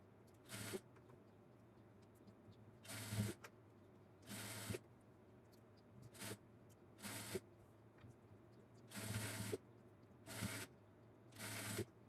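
Sewing machine stitching a bootcut pant seam in short separate bursts of whirring, each lasting about half a second with pauses between them, faint and without talk.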